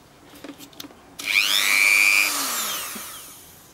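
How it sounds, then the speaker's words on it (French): A small grinder whines up and cuts into a screw on a Xcontrol shock absorber axle, a loud rising high-pitched whir that holds then slowly spins down, preceded by a few light metallic clicks. "Avec la petite meule."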